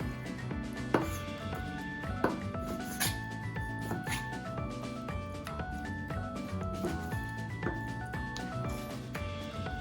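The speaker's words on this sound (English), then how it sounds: "I'm gonna cut it into pretty big pieces since they're gonna shrink once I start cooking" Steady knife chopping on a cutting board while cutting chicken into big pieces for curry, a string of quick, even thuds with music playing underneath.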